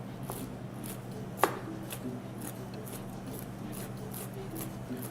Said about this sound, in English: I'm going to start to cut up the nuts with the back part of the blade